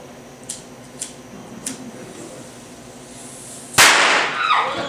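A few small crackling pops are followed by one loud, sharp firecracker bang close by, its noisy burst trailing off into hiss.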